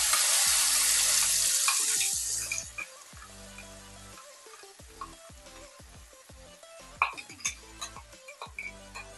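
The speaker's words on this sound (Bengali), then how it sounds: "এবার আমি বাটাটা তেলের মধ্যে ছেড়ে দেব।" Bottle gourd peel paste dropped into hot oil with black cumin gives a loud burst of sizzling that settles into quieter frying, with clinks of a spoon against the pan and stirring sounds.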